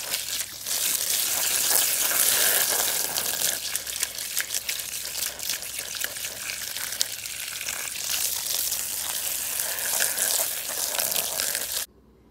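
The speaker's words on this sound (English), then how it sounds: "So we're gonna fry this up and see what it tastes like." Bear corn, a non-photosynthetic plant, frying in a pan with a dense, continuous sizzle and crackle, close up, that stops abruptly at the end.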